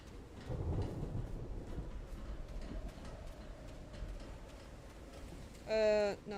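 Thunderstorm in a video game: a deep rolling rumble of thunder over continuous rain hiss, building early then easing into steady rainfall, with a short tonal game sound near the end.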